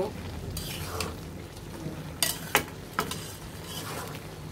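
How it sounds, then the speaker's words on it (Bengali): Bottle gourd and prawn curry being turned over in a pan: a soft, steady bubbling simmer with a few sharp scrapes and clinks of a spoon against the pan, nearby and alone. "এখন আমরা আবার উল্টিয়ে নিব"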